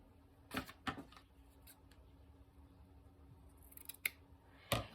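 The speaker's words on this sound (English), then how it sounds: "So let's just cut us a piece here." Scissors snip through a piece of lace in a few sharp, close cuts scattered across a quiet moment, with soft handling noise between the snips.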